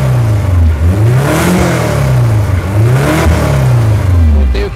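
A Volkswagen Beetle Hebmüller convertible with a 2.0 engine and automatic transmission starts and revs loudly up close, its deep rumble rising and falling in repeated swells.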